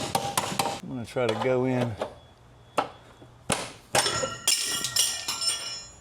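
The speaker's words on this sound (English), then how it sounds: "Tap this bolt through." A hammer taps a lower control arm bolt through on a braced-up car suspension, giving several sharp metallic knocks at close range, separated by pauses, with someone speaking briefly in between.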